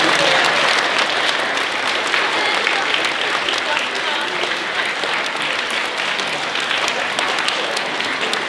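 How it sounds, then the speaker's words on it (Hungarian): An audience at a school Christmas show applauds loudly and continuously, a dense wash of many hands clapping throughout with no break. "egy nagy-nagy tapsot kérek mindenkitől, hiszen a közönséget is meg kell, hogy tapsoljuk"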